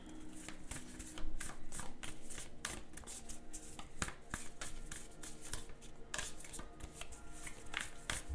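Oracle cards shuffled by hand for a pick-a-card reading, a steady stream of crisp riffling clicks and soft slaps throughout, close and fairly quiet, with no talking.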